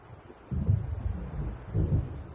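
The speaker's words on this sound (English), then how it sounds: "It seems there's a storm coming." Low, rolling thunder from an approaching storm in the video game Alan Wake Remastered swells into a steady, distant rumble with a second surge near the end.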